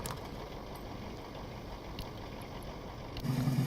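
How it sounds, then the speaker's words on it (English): A truck engine idles in the video game Mudrunner, a steady low rumble that holds evenly throughout and swells slightly louder near the end, with no talk over it. "turning the engine off here"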